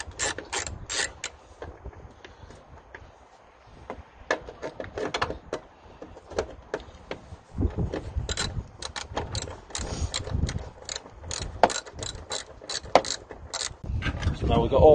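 Ratchet wrench working the headlight bolts out of a VW T4 van, with bursts of rapid clicking pawl strokes repeated in short runs, close up, alongside scattered metallic knocks and handling noise.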